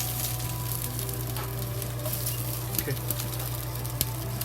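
Scallions frying in a pot over a medium flame for fried eggs with scallions, giving a steady, soft sizzle with a low hum beneath and a few faint clicks, while a voice speaks briefly.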